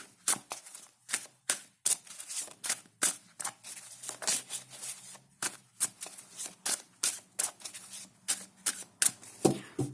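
Tarot cards are shuffled repeatedly in quick bursts, crisp riffling slaps in an uneven rhythm, close and clear with no talking.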